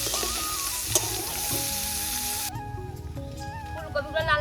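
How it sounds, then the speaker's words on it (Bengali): Cauliflower florets frying in hot oil for a vegetable biryani, a loud steady sizzle that drops off sharply partway through, followed by quieter bubbling and light stirring scrapes. "ফুলকপিগুলো, দিয়ে দেবো হালকা লাল লাল করে ভেজে নেব।"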